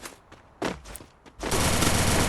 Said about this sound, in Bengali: ছোট শটগানে হেডশট তো ড্যামেজ কম